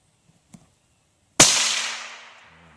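A single rifle shot fired outdoors, one sharp, loud crack followed by a long rolling echo that fades over about a second, preceded by a faint soft click.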